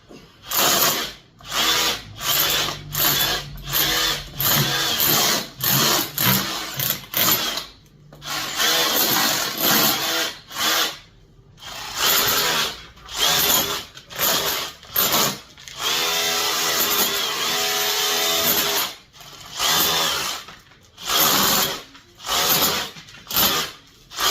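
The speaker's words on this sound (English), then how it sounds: "I think I'm going to get the wire brush and scrape this." A wire brush scrapes an old red brick wall in loud, rhythmic bursts of harsh rasping separated by short pauses, with loose paint and plaster coming away, no voices.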